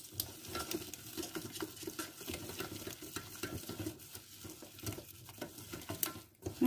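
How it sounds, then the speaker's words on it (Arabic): Flour browns with butter in a pan for a lasagna with green zucchini and spinach: soft sizzling runs throughout, broken by quick scraping and stirring pats of a utensil against the pan, close and fairly quiet. "واحد جوج دقائق لما تحمر الدقيق مع الزبده"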